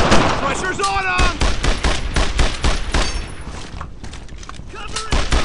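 Rapid bursts of gunfire from the World War II shooter Brothers in Arms, dense overlapping shots and thuds crackling loudly throughout, with shouted voices mixed in among the battle noise.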